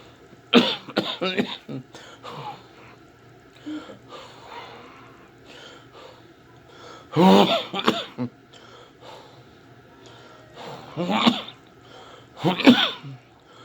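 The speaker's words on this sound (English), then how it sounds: "dry cough also sounds very flu-like" Dry coughs break out in short bursts, a few clustered together at intervals, close by over a quiet background with faint breathing.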